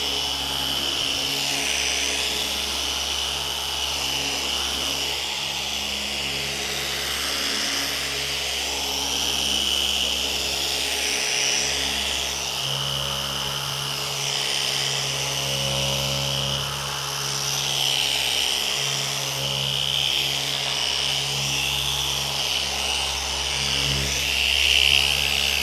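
A car polishing machine runs at speed 4 while paint is prepped for a ceramic coating, a loud steady motor whine with a low hum and slow rhythmic wavering in pitch, close and continuous with no speech.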